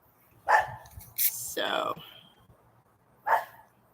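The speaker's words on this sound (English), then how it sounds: "Now we got the dogs." Dogs bark outdoors, a sharp bark, then a longer yelping burst and one more bark after a pause, with someone speaking briefly between them.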